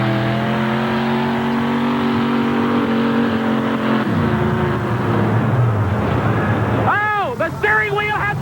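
A pulling van's engine revs hard at a 1988 NTPA truck and tractor pull in Hamburg, a loud sustained roar that drops in pitch partway through, with crowd and announcer noise over it near the end.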